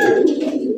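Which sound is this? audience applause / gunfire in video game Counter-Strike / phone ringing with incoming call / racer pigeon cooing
racer pigeon cooing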